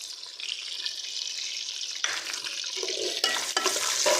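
Chopped onions hit hot oil with browned cumin seeds for an aloo matar gajar curry, giving a steady broadband sizzle that jumps louder partway through as the onions go in, with faint stirring.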